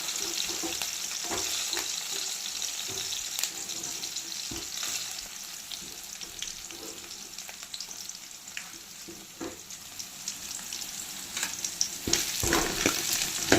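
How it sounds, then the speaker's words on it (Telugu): Chopped onions and chillies frying in a pan on a medium stove, a continuous crackling sizzle with occasional stirring scrapes, steady and close, no talking. "ఈ ఆనియన్స్ రెడ్ కలర్ వచ్చేలాగా మనం ఫ్రై చేసుకోవాలి."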